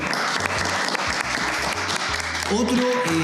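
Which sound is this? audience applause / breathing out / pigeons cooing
audience applause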